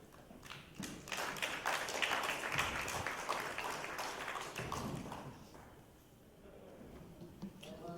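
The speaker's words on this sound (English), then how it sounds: "big round of applause to the chairman of the session" An audience at a panel discussion on precious metals applauds the session chairman, a moderate burst of scattered clapping that swells then thins out, heard at some distance in a hall.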